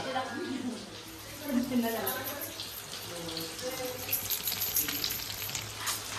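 Sabudana vada sizzling as it fries in a pan at home, a steady crackling hiss running throughout, with a person talking over it.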